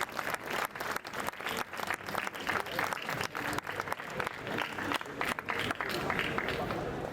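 An audience claps for models at a French-speaking creative workshop event, with steady applause and crowd noise throughout and voices talking underneath.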